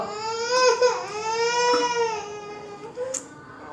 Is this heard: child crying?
yes